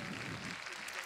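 Faint, sparse applause from the spectators at the Saut Hermès 2022 show jumping event, Prix Hermès Sellier CSI 5*, with a thin patter of scattered clapping lasting about a second.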